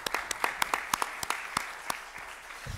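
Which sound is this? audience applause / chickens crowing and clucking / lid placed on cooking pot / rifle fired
audience applause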